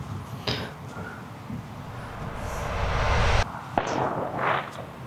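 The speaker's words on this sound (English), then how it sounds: "little fireworks." Fireworks pop outdoors near a golf course in Fort Myers, a few sharp distant bangs over a broad, rumbling background wash.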